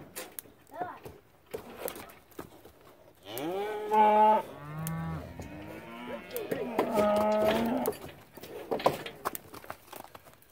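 Several cows moo loudly nearby in long, drawn-out calls, two main bursts with quieter rustling and movement between them.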